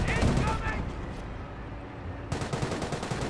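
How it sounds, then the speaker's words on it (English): A creeping artillery barrage in Company of Heroes, heard as a rolling clatter of gunfire and blasts, loud at first, easing briefly, then returning under a voice speaking. "At first I was wondering what type of artillery barrage was that, and I forgot about creeping barrage"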